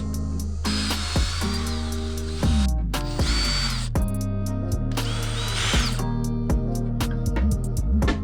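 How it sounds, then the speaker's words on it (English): A power drill whirs in repeated bursts while drilling holes in a wooden 2x4 bench, its motor pitch rising and falling as it bites in, with short pauses between runs. "To fix that warp right there, I'm gonna drill out a couple holes."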